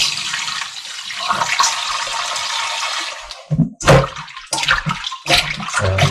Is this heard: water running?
yes